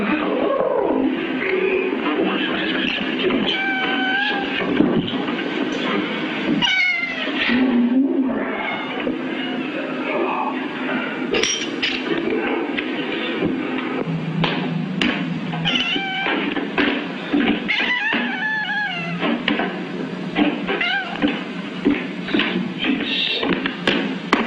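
A cat shut inside a room gives repeated meows and yowls through a dense, noisy background, the cries fairly clear but partly blended with tapping and other indoor sounds.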